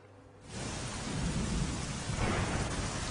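Heavy rain pours down during a monsoon downpour in Kutch, a loud, dense, steady roar that swells in after a quieter moment and continues unbroken.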